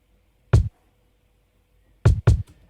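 Kick drum sample in FL Studio, layered for punch: one deep, booming hit, a pause, then two quick hits in a row, loud and dry with no voice.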